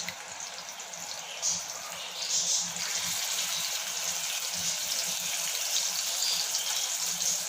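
Mutton liver pieces sizzle in ghee on a tawa over a low flame, producing a soft, steady hiss and crackle with faint clinks, fairly quiet throughout.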